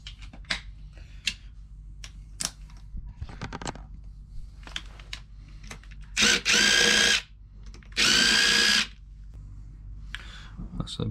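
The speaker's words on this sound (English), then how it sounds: "now we just gotta crack off these two bolts on the bottom bearing cap" A power tool, likely an impact or drill-style driver, breaks loose two bolts on an engine's bottom bearing cap during a teardown, giving two loud, close bursts of roughly a second each, with quieter clicks and handling noise around them.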